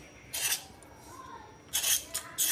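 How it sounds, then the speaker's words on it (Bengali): A knife scrapes the skin off washed pointed gourds (potol), producing short, bright rasping strokes in three separate bursts with quiet pauses between. "মানে এইভাবে পটলগুলো চেঁচে নেব।"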